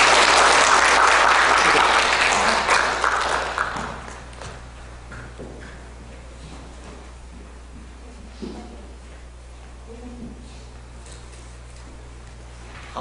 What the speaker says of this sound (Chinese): 掌声再次鼓励这些